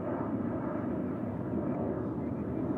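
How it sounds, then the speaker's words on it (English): A McDonnell Douglas MD-11 at Dallas/Fort Worth airport gives a continuous, heavy jet engine roar, fairly loud and steady throughout with no talk over it. "Yeah, there's an MD-11."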